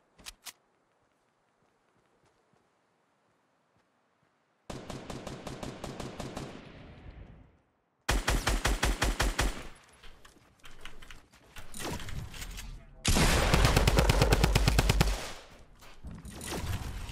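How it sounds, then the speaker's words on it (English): Tommy gun fire in Fortnite Battle Royale: three loud bursts of rapid automatic shots, each lasting about two seconds, separated by short pauses after a quiet start, with no talking. "Why did I use my Tommy gun?"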